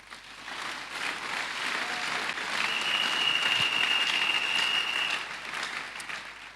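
Congregation applauding in a church, steady sustained clapping from a sizeable crowd that swells slightly in the middle, with a faint high tone running through it partway and no clear talking.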